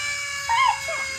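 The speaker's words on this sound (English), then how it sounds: "Fire truck. That was Sunshine." A fire truck siren gives a brief wailing sweep that rises and falls once, heard over a faint steady background tone.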